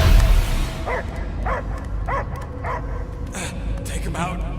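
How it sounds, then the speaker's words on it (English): Repeated dog barks in the Guardians of the Galaxy video game, five or six evenly spaced yips and bow-wows over steady background hum and game ambience. "I hear only barking"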